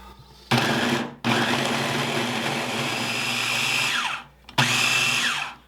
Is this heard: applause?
no